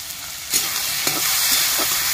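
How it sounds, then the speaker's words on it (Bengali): Bitter gourd and potato are stirred as they fry in a wok, with a few distinct scraping strokes of the spatula breaking through a constant crackling sizzle of hot oil. "কড়াইয়ের তেল গরম হয়ে গেছে, উচ্ছে আলুটা আমি ভেজে নিচ্ছি।"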